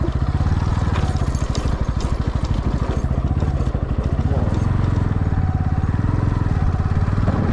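A motorcycle rides along a rough rural road between Jammalamadugu and Muddanur, its engine putting out a steady throbbing pulse with rattling and wind, close and loud throughout.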